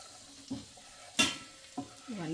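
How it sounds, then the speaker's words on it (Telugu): Garlic and green chillies frying lightly in hot oil sizzle softly, with several clattering stirs of a spoon against the pan and one louder scrape in the middle. "వెల్లిపాయ అండ్ మిర్చి, వీటిని గోలించుకోవాలి."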